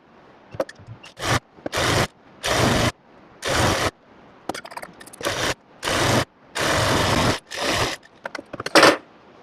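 A sewing machine stitching the fitting seam of a ladies' summer coat-suit, running in loud close bursts of steady whirring. The bursts are separated by short pauses and light handling clicks, with no talk.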